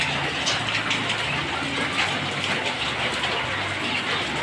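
Heavy rain pours steadily during a typhoon, a dense continuous hiss of water falling close by, with no voices.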